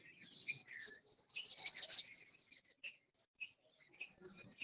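Small birds chirp and tweet outdoors among trees in the open-air circumambulation path around a temple, a busy scatter of faint, high calls going on throughout.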